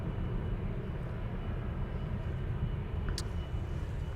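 A jet airliner departs from the Polderbaan runway at Amsterdam Schiphol Airport, giving a steady, broad low roar of engine noise that holds evenly throughout at a moderate distance, with no voices.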